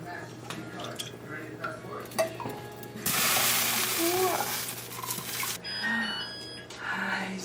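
Gouda cheese curds are stirred in a pot of whey, with soft wet sloshing and a louder rushing swirl in the middle, while a person talks nearby.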